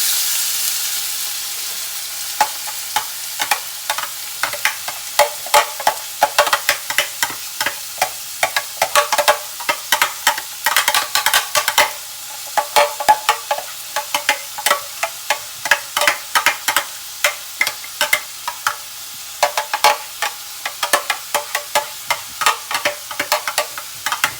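Cumin seeds and green chillies frying in a pan, a close, steady sizzle broken by frequent short scraping clicks of stirring, with no voices.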